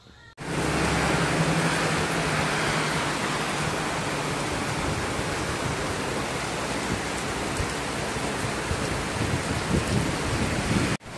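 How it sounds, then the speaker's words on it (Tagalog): Heavy rain pours down steadily after a drizzle turned suddenly strong, a dense, loud, unbroken hiss that starts abruptly and holds for the whole span, with no voices. "Kanina ambon lang to, bigla na lang lumakas."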